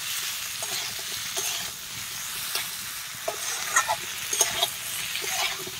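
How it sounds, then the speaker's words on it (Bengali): Drumsticks and potatoes, seasoned with salt and turmeric, fry in a pan for a village-style prawn curry, giving a steady close sizzle with occasional light stirring clinks and scrapes. "দিয়ে ডাঁটা আলুকে আমি ভালো করে ভেজে নেব।"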